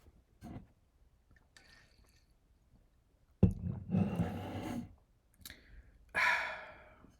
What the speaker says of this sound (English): Just got to take a quick break for some water.